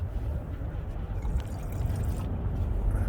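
Diesel fuel drains from a Davco fuel filter into a container in a steady, low trickling pour, close by and fairly quiet, with no talk.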